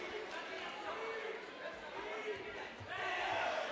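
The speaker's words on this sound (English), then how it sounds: "You hear that, the crowd reacting to every single strike." A crowd at an HUFC Super Fights combat event roars and shouts in reaction to strikes. The faint, distant swell of voices rises toward the end, with commentary-like speech mixed in.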